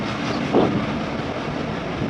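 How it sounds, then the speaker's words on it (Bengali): The Nakshikatha commuter express pulls out of Faridpur station, a loud continuous rumble of rail cars rolling along the track with a brief clank partway through. "কমিউটার ট্রেন সার্ভিস ফরিদপুর থেকে এই মুহূর্তে আমাদের ট্রেন ছেড়ে দিছে"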